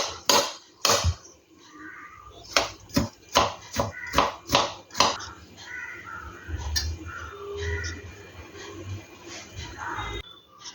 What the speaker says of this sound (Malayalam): ഇനി ഇതെല്ലാം കൂടി ഒന്ന് ചെറുതായിട്ട് കട്ട് ചെയ്തെടുക്കാം.